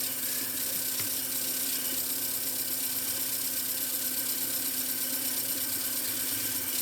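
A Sony TC630 reel-to-reel tape recorder with its motor running and reels winding, giving a steady, even mechanical hum and whir close by, with no pauses.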